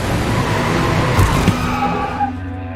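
Car skidding with tyre squeal in The Quarry video game as it drives toward a person, steady engine and skid noise throughout with a couple of sharp thumps midway.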